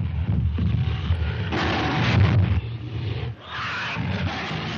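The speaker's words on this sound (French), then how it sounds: "les sons d'animaux au ralenti qui ont servi à créer les cris du tout premier King Kong" Slowed-down animal sounds, including a lion, used to build the roars of the original 1933 King Kong: loud, continuous, deep rumbling roars that swell and break off, with no talk over them.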